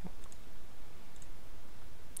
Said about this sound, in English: And I'm just clicking and dragging,